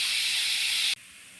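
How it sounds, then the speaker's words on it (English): A loud, steady hiss of steam venting from a pressure cooker at close range, cutting off abruptly near the end and leaving a quieter background. "When the steam is released, it'll let me know by beeping."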